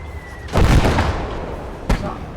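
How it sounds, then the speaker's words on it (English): Heavy mortar shells explode in the WWII strategy game Kampfgruppe, a deep booming blast followed by a rumbling tail, then a second sharp impact more than a second later. "That's definitely heavy mortars"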